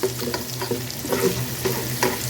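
Onion frying in a pan with a continuous crackling sizzle, while a utensil stirs it in repeated scraping strokes, close and loud, with no voices.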